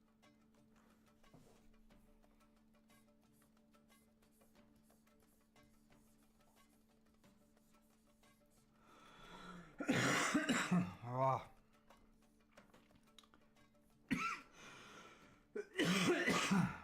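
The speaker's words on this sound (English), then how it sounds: "Why does it have to be coughing?" After a long quiet stretch, a person coughs and clears their throat in a few harsh bursts, close and loud, with a brief spoken word between.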